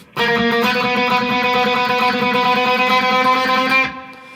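A short guitar intro: one bright, ringing passage held for a few seconds before it cuts off. It plays alone, with no talking.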